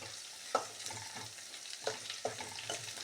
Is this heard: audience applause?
no